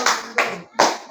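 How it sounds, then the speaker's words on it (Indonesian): An audience in a classroom-style teaching session claps hands in three short loud bursts, each swelling quickly and fading, close and clear with no talk over it. "Berikan tepuk tangan."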